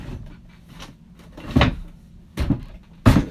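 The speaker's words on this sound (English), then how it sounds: "This drawer won't go in." A stuck drawer is shoved repeatedly, three heavy wooden thumps spaced about a second apart over low scraping, close and loud with no speech.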